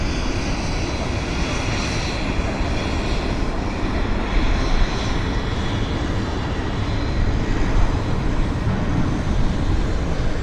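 United Airlines airliner rolling for takeoff at Vancouver Airport, its jet engines producing a loud, continuous broadband roar that stays steady and heavy throughout.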